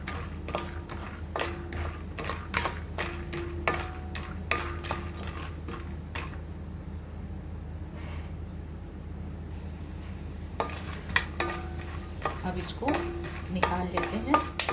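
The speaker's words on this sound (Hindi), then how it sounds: "हल्के मीडियम आंच पे ही हमेशा रखें और धीरे धीरे इसको चलाते जाइए।" Almonds sizzle steadily in hot ghee over medium-low heat while a spoon scrapes and stirs the pan in repeated strokes, with a quieter stretch of gentle frying midway.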